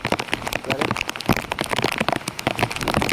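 Steady rain pours onto a rooftop terrace on a farm, a dense, close crackling patter that runs unbroken and fills the whole stretch.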